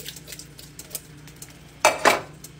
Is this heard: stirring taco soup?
yes